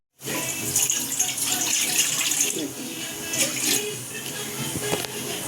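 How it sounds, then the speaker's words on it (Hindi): Tap water pours steadily into a container being filled for steaming idli, a bright continuous splashing rush that starts abruptly and runs close and fairly loud for several seconds. "अभी ये पानी इसीलिए फिल कर रहे हैं क्योंकि हम क्या करेंगे अभी इसको"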